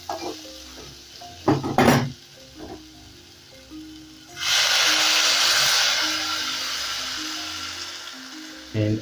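Water poured into a hot pot of sizzling aromatics for butternut squash soup sets off a loud, sustained hiss that fades slowly, after a few earlier stirring clatters of utensils on the pot.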